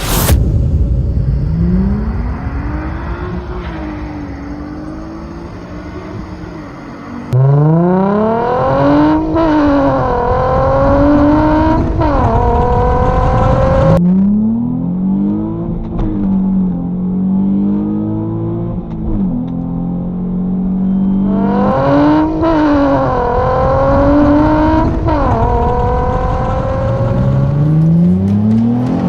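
A 2008 Nissan 350Z V6 with an N1 exhaust as its only modification revs and pulls through gears, loud rising and falling engine tones repeating in long sweeps, close and steady with no talk.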